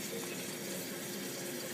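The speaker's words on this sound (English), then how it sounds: "I fill up that with nice purified water just from my sink" Purified water runs steadily from a filtered sink tap into a container, a continuous close rushing and splashing that stays even throughout.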